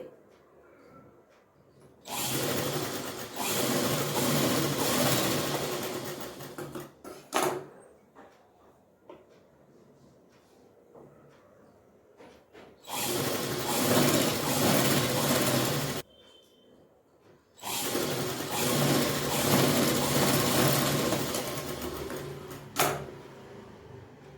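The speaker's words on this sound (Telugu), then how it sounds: "ఇలా కట్ చేసుకున్నాం కదా ఇప్పుడు డాట్స్ కుట్టుకోవాలి" A sewing machine stitches darts on a frock for a five-year-old girl, running in three sustained loud bursts with quiet pauses of fabric handling and small clicks between them.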